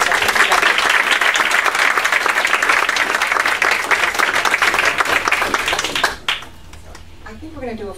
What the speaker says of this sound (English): a nice round of applause for these people